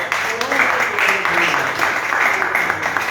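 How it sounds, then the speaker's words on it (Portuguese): Congregation applause at a Bible study gathering on the Book of Revelation: steady, dense clapping fills the whole stretch at moderate loudness, with a voice talking faintly over it. "Uma salva de palmas para Ô, glória"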